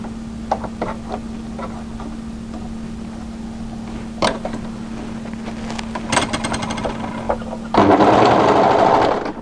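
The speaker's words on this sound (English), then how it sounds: "I'm just sewing a few stitches just to anchor my work into position" Domestic sewing machine stitching fabric for a draped-front shawl-collar coat, with a steady motor hum under short bursts of rapid needle clatter that turn into a longer, louder run near the end.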